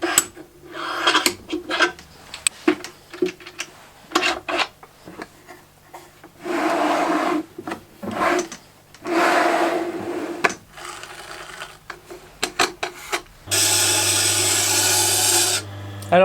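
A plane blade is sharpened on a water-wetted Tormek grindstone: a low motor hum runs under bursts of gritty scraping and rubbing as the steel is stroked back and forth, ending in a louder, steady grinding stretch, with no talking.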